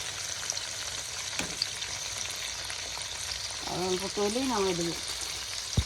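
Pitha cakes sizzle in hot oil with a continuous crackling hiss close by, while a voice talks briefly over the frying.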